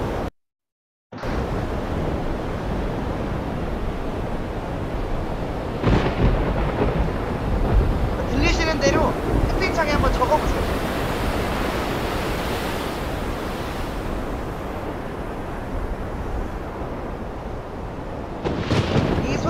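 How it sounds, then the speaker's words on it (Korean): Recorded thunderstorm over the sea: a steady roar of wind-driven waves and rain, with rolling thunder swelling in the middle and again near the end, after a brief silence at the start and under a short spoken instruction. "천둥, 폭풍, 바다 맞습니다"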